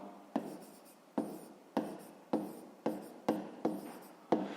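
Pen or pencil writes a handwritten math solution on paper in a run of eight short scratchy strokes, each starting sharply and fading, evenly spaced, close and quiet with no talking.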